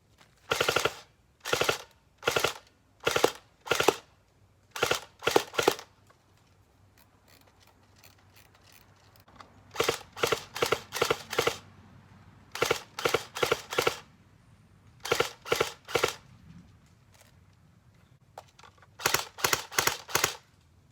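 Rapid bursts of muffled, clacky airsoft gunfire through a homemade suppressor come in short strings of shots, separated by quiet pauses with faint background hum.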